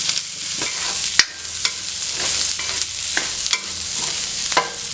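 Boiled potatoes and butter beans are sautéed in a pan for a wedding-style potato milk curry, giving a steady hiss of frying with scraping spatula strokes and sharper clatters from stirring, close and fairly loud.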